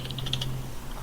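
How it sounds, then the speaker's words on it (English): Brief burst of rapid keystrokes on a computer keyboard, several quick light taps close by over a steady low electrical hum. "so I'm just typing negative 100"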